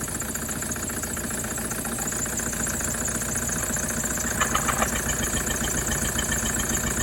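A Toyota Land Cruiser Prado 1KD-FTV diesel engine with a cracked piston idles steadily with a rough, knocking clatter, plus a brief higher rattle partway through; no voices.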